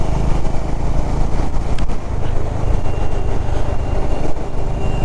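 A Honda CB350 motorcycle cruising on a highway near Kolkata on a winter morning, a loud steady engine drone mixed with rushing wind from the rider's position, unbroken and without talk.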